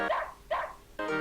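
Three short, quick dog barks in a row, yappy and close, with no other sounds around them, from the PC video game Oregon Trail II.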